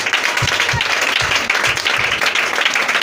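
A church congregation applauding, loud rhythmic clapping that fills the room steadily throughout.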